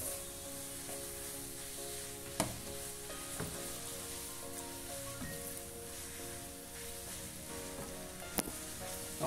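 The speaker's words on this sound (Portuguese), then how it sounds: "Nós vamos deixar fritar um pouquinho aqui a nossa massa." Spaghetti frying in hot oil with garlic, a steady soft sizzle and crackle in the pan with a few sharp clinks of a utensil, close and alone with no talking.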